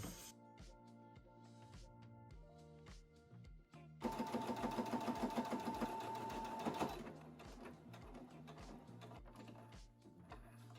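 Sewing machine stitching a 2 cm hem on a dress: bursts of rapid mechanical stitching, with a louder, denser run in the middle. No talk.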